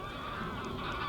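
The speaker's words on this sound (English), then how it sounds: "It's just loads of geese." A large flock of Brent geese honks continuously, dense overlapping calls heard from a photography hide, steady and moderately loud throughout without pauses.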